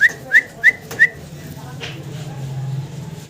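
A fantail pigeon gives four quick, bright whistling calls in a row, close and fairly loud, followed by a low murmuring coo.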